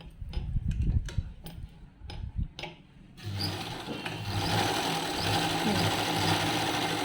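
A sewing machine stitches a picot edge along a saree. A few sharp ticks and clicks come first, then the machine whirs into a steady, close running drone with no talking.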